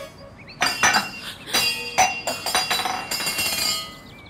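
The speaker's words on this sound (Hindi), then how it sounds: "अंदरों आवाज आई है, गिलास डिगण दी आई होनी है" A drinking glass falls and clinks, a run of bright clattering hits over about three seconds, fairly close, with no voices.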